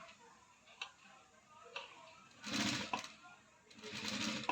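A sewing machine stitches a blouse in short runs, a soft rhythmic whir with ticking that surges louder near the middle and end, while someone speaks over it.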